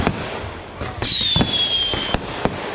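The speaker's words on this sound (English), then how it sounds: "they got all the fireworks in here" Fireworks bang and crackle repeatedly in a street neighborhood, loud sharp reports at uneven intervals with a whistling rocket streaking through, amid background crowd noise.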